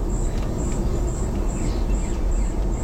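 Forest nature soundscape with birds, played through the audio system of a Hyundai Ioniq 5: a dense, steady bed of ambience with high repeated chirps running throughout.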